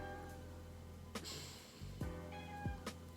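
An indoor cat meows a few times, short separate calls spread over a few seconds, fairly close but not loud, with no talking over them.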